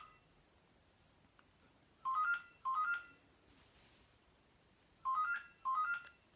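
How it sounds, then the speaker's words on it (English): A phone rings in two pairs of short electronic trilling bursts separated by a gap, each burst bright and warbling against a quiet room. "That's my phone ringing."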